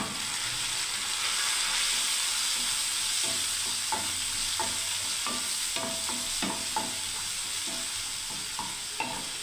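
Onion paste frying in a hot pan for mung dal kofta curry, a steady loud sizzle with repeated scraping strokes of a spatula stirring through it, no voices.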